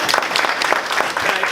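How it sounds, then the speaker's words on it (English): Audience applause at a Toastmasters club evaluation meeting, a steady dense wash of clapping from many hands, fairly loud and continuous for the whole short stretch with no voices over it. "So let's give him a round of applause."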